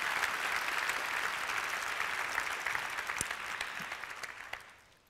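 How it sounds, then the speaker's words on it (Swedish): Conference attendees at Webbdagarna in Stockholm applaud with a full, steady crowd clapping that gradually tapers off and fades out near the end. "Jag tycker vi börjar med en applåd"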